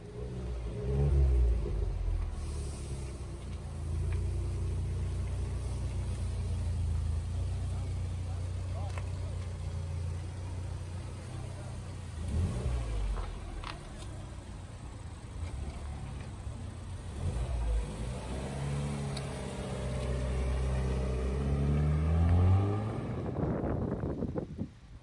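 A BMW M5 F90 with an aftermarket exhaust and carbon tips revs in a few swelling bursts, then rumbles on at a full, throaty idle, fairly faint, with people talking over it.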